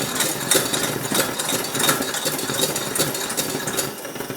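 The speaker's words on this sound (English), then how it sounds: "So let's pump it up another 25 times after that" Rhythmic hand pumping of a pressure lamp that is nearly empty, repeated strokes with soft hissing air pulses, steady and close, no voices.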